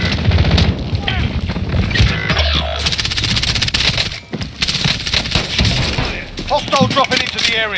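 Rapid gunfire bursts from a Warzone match on the Victoria map, loud and continuous with sharp cracks and a dense clatter, mixed with game voices and effects.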